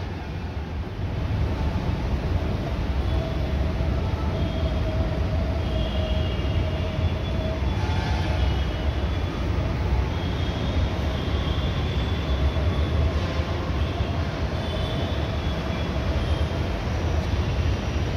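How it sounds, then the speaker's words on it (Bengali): A Bangalore Yellow Line metro train arrives at a station platform, rumbling steadily, a loud continuous roar with a low drone and some high whine, sustained without pause. "চলে এসছি মেট্রোটা, দেখুন এই যে স্টেশনে চলে এসছি"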